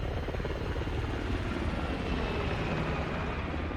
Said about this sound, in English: A helicopter flies overhead, but this time Sarah does not panic.